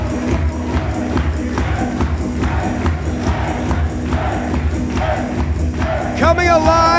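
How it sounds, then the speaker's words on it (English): Wrestling crowd at a live show roaring for the CCW Southeastern Champion, a loud sustained mass of voices with chanting pulses and a high shout near the end. "And listen to this crowd."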